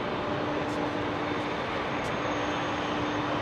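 Jet airliner with Pratt & Whitney engines departing Heathrow, a steady broadband engine roar with a constant low hum, loud and unbroken throughout.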